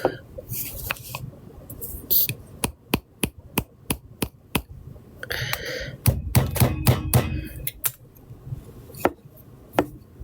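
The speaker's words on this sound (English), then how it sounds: "We use a hammer to hammer it." A series of sharp metallic hammer taps on a wire ring, roughly evenly spaced and fairly close, with a quicker cluster of strikes midway and soft background noise between.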